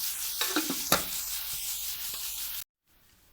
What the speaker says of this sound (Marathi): तेल टाकलं ना कांदा चांगला लवकर भाजतो